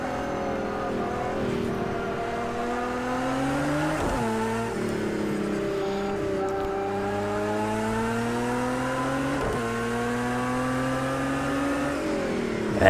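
Race car engines at Spa-Francorchamps in Project Cars 2, including a Porsche, drone steadily at high pitch, rising through the gears with a few brief dips at shifts, loud and close without pause.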